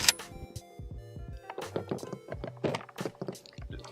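Shells are pushed into a Maverick 88 pump-action shotgun, making a quick series of close metallic clicks, thunks and rattles. It sounds like handling at close range, with no speech.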